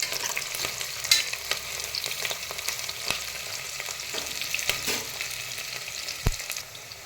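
Onions frying in a pan until brown for vegetable pulao, a steady close sizzle with occasional scrapes and stirs of a utensil, no talking.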